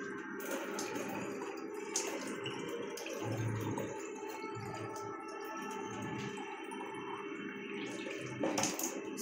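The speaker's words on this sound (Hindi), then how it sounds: "इसको इसमें हम पानी भरेंगे। ये मैं फिल्टर का पानी यूज़ कर रही हूँ।" Filtered water poured into a reusable facial ice roller, a steady close trickle and gurgle running continuously with slight shifts in flow, no talking.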